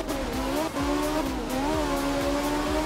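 A Group 4 rally car in art of rally on a wet Finnish stage, its engine droning steadily with rising and falling revs between gear changes, loud and close, with no voices.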